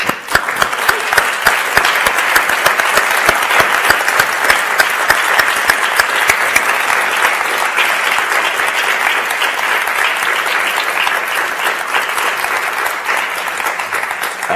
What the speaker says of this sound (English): So if you just give John a round of applause.